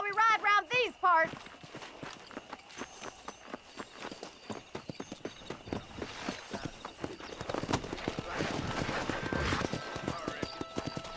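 Horse hooves clip-clopping while riding in Red Dead Redemption, rhythmic footfalls that start sparse and build into a quicker, denser gallop, with a short burst of voice at the very start.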